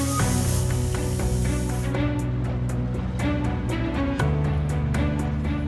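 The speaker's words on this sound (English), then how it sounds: "A plasma cutter then cuts the plates in exact accordance with the design drawings to within a single millimeter." A plasma cutter slices steel plates in a shipyard workshop, giving a loud, harsh hiss that is strongest over the first two seconds, with tonal music running underneath throughout.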